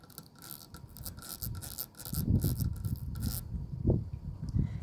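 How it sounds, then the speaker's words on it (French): Close, dry scratching and rubbing of fingernails on a surface by a swimming pool, continuing with uneven bursts over a low rumble. "C'est mes ongles qui font un peu de bruit."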